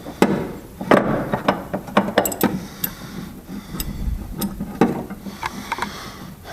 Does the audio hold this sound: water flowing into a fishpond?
no